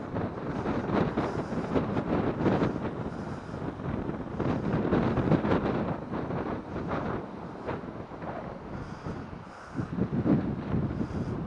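Strong wind buffets the microphone during a sunny, stormy-weather motorcycle ride, a steady loud roar with surging gusts throughout and no voices.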